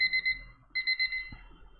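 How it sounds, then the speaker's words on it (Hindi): An alarm bell rings in two short bursts of rapid repeated electronic beeps, loud and close, separated by a brief pause, with no speech. "अलार्म बेल बज गई"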